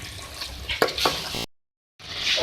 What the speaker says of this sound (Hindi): अब इसको जो है मिक्स करेंगे और 1 मिनट दम पे रखेंगे